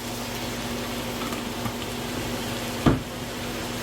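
Heaping tablespoons of garlic hitting hot grease in a pan, a steady close hiss of frying throughout, with one brief clatter near the end.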